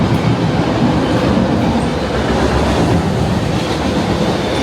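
A very long passenger or freight train rolls steadily past up close in rainy Oregon countryside near Multnomah Falls, a continuous loud rumble of wheels and cars with faint clattering and no break throughout.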